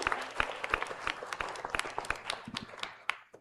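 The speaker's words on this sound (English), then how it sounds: "let us give a round of applause to distinguished panelists here," An audience at a science-for-development summit applauding panelists and Nobel laureates, a crowd of hands clapping in an even patter, moderately distant and fairly soft, tapering toward the end.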